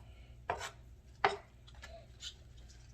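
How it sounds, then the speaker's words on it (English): A knife chops through collard green stems on a cutting board in two sharp, distinct strikes with a quieter cut near the end, close and fairly soft, with no talking. "I'm probably going to keep maybe about 10 to 12 stems and cut them up real fine like this"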